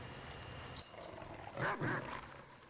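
A lion-like horned creature in the KOTOR video game lets out two short roaring growls, moderately loud over a faint background hum.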